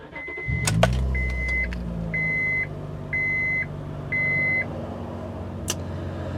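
A 2004 Honda Odyssey EX minivan starts up: a short starter crank and engine catch, then a settling idle under a series of five evenly spaced electronic chimes, with a brief click near the end.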